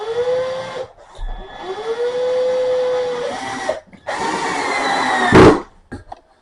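A power drill drives coarse screws through sheetrock into metal studs, its motor whining up in several long loud runs separated by brief pauses, ending with a harsh grinding burst as a screw bites.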